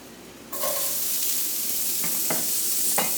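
Vegetables dropped into a hot pan burst into a loud, continuous close sizzle that holds steady, with a few sharp scraping stirs over the hiss and no talking.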